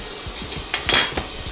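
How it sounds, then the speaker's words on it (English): Dairy-free butter hitting a hot frying pan gives a soft, steady sizzle with a few light scraping clicks of a utensil against the pan, close and without talk. "My pan's nice and hot, so I'm going to add a little bit of dairy-free butter."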